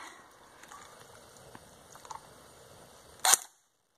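A Lancer Tactical LT-12T airsoft gun fired on semi-automatic, a few faint scattered pops followed by one sharp, louder snap just before the sound cuts off, with no talk.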